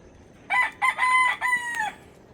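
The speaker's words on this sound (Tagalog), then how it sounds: "Marami silang manok." A rooster crows nearby, a loud drawn-out call broken into several segments, rising and falling, with quiet background otherwise.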